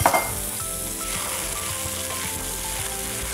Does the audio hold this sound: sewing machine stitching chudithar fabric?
no